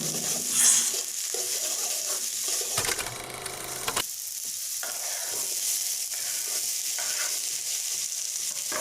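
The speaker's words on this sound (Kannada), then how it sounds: "ಮೊದಲನೇದಾಗಿ ಈರುಳ್ಳಿ ಮತ್ತು ಟೊಮೆಟೊ ಎರಡನ್ನೂ ಫ್ರೈ ಮಾಡ್ಕೊಳ್ಳಿ" Onion and tomato frying in a pan for a bhindi masala, giving a steady bright sizzle throughout with occasional spatula stirs and scrapes, close and continuous, with no one talking.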